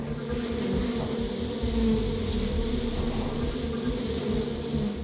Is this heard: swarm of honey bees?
yes